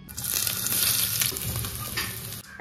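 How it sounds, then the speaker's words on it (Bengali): Morola fish frying in a pan at home, a steady crackling sizzle with oil spatter that runs loud and continuous throughout, without any talking. "এবার মোরলা মাছ ভাজবো"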